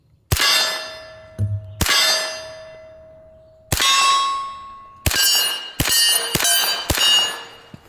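Single shots from a Thompson submachine gun strike steel targets, each followed by a loud, ringing metallic clang that slowly fades. About seven hits arrive at irregular intervals, several close together near the end.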